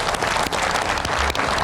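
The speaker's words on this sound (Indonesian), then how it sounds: "Kita berikan tepuk tangan." Studio audience clapping at the close of an Indonesian TV political talk show, a brief, loud, dense burst of applause with no talk over it.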